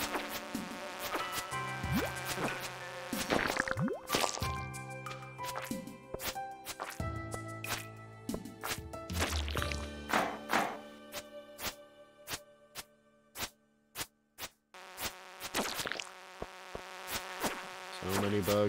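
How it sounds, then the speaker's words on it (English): Insects buzz in the Stardew Valley mines, a steady drone near and loud under game music, with sharp clicks and impacts scattered through and a run of regular hits toward the end. "So many bugs."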